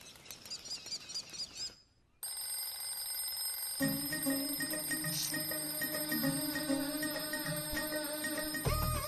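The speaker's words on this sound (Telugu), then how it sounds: "ముందు అలారం ఆపు." An alarm rings loudly and continuously nearby, a sustained electronic bell-like tone that starts after a short gap of near silence and keeps sounding to the end, with faint chirpy tones before it.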